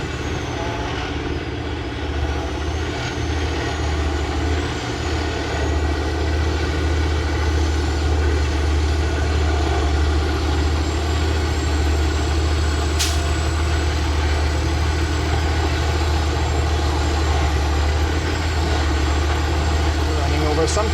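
Diesel truck engine idling loudly during a regeneration cycle, a steady low droning rumble that holds unchanged throughout, close and continuous with no pauses.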